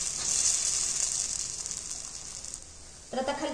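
Wheat flour batter spread on a hot pan over a medium gas flame, giving a steady bright sizzle that fades slightly toward the end, followed by a brief clatter.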